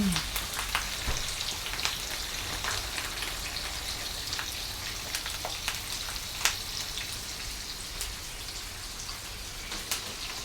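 Fish fries in a pan laid over curry leaves, giving a soft, constant sizzle with scattered small pops and crackles, fairly faint and steady, with no one talking.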